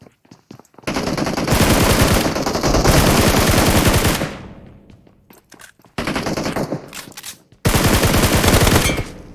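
Bursts of rapid machine-gun fire in a shooter video game, loud and close, with long sustained volleys separated by brief pauses and a sharp tail-off between strings of shots, no talk over them.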